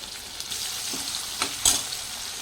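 Green chilies, mint and turmeric fry in oil in a pan, giving a close, steady hiss of sizzling while a spoon stirs through them with a few soft scrapes and light knocks; no voices.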